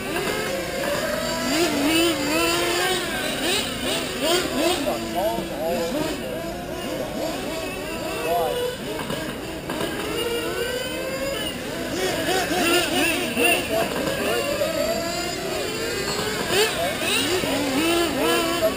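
RC cars in an endurance race on a track whine and buzz with high, rising and falling engine notes as they pass repeatedly, while a race announcer talks over them.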